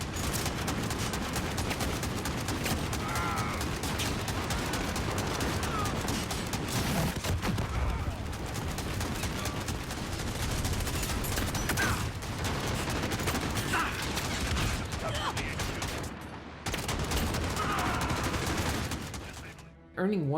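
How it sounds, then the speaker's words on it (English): Dense, sustained gunfire from Modern Warfare 2019 multiplayer, with rapid overlapping shots, explosions and booms filling nearly the whole stretch, briefly dropping out once before resuming loud and continuous. "Earning kills is fun in multiplayer because of the sound effects and impact from your guns"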